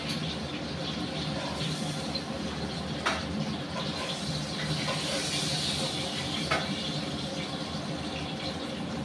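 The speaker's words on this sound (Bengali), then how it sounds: "আর এদিকে আমার কাতলা মাছটা ভাজা হয়ে যাচ্ছে" A katla fish head fries in a pan with a continuous, moderately quiet hiss and sizzle, with two brief sharp clicks along the way.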